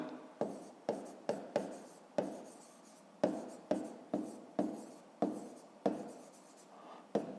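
A pen writes digits on paper for a fifth-grade maths exercise: a steady run of about a dozen short, scratchy strokes with brief pauses between them, close and fairly quiet.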